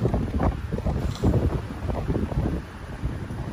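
Strong wind buffets the microphone in continuous low, rumbling gusts, loud and close, with no voices, while fishing for zander.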